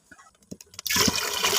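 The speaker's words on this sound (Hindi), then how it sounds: "साथ ही मैंने पानी ऐड कर दिया" Water pours into a cooking pot for chicken pilau rice, a short splashing rush that starts abruptly after a few soft clicks and handling sounds, close and steady.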